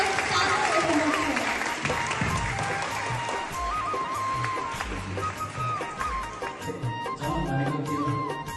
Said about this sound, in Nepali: जोरदार ताली का साथ स्वागत गरौँ हाम्रो आजको प्रस्तुतिका सानो उपन्यास।